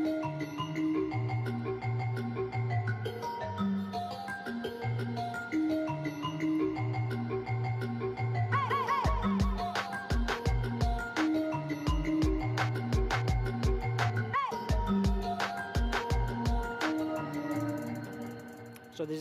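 A sound-producing tie plays electronic, music-like tones: layered sustained notes with a rhythmic pulse of sharp clicks and beeps entering midway, steady and moderately quiet, with no talking.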